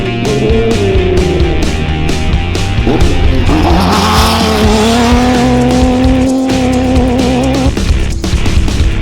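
An onboard race car roars loudly at a speedway during the Perenjori 360, its engine note rising and falling through gear changes and corners, with tire squeal and wind rushing throughout.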